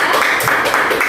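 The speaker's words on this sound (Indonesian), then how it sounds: "Beri tepuk tangan kepada kelompok 2." Students in a classroom applauding a group, a short burst of dense, loud clapping from many hands close by.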